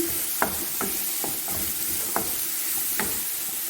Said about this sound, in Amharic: ይሄን ያስቀረውትን ነጭ ሽንኩርቴን እጨምረዋለሁ። ከዛ ያንን እንደዚህ ጥብስ አደርጋለሁ።